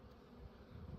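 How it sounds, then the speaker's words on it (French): Honeybees buzzing steadily at an open hive during an inspection, a dense close hum with no voices. "Donc une abeille qui a terminé son cycle et qui sort pour..."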